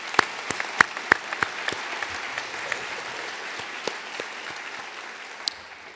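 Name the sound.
audience applause at a white coat ceremony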